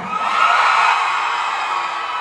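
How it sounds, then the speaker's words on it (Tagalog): A loud audience at a fan event with Erik and Stell in San Francisco shouts and cheers together in one sustained, dense roar that holds steady for the whole stretch without any individual voice standing out. "Kailangan malakas yung sigawan."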